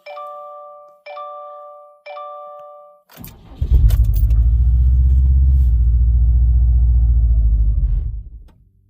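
A Subaru WRX STI running on E85 fires up on a cold start after three chime tones, then settles into a loud, steady, close rumbling idle for several seconds before cutting off.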